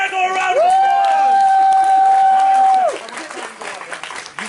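A round of applause for a player during a Cards Against Humanity game at MFF 2018 fills the room with dense clapping, while a long, high sustained whoop rides over it for about two seconds before the noise tapers off.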